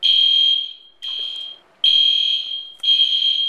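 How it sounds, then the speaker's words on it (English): A hotel smoke alarm blares in four loud, piercing electronic tones, each held for about a second with brief gaps between, and no voices over it. "the front desk called and said that they were working on turning off the alarm, but it hasn't turned off yet"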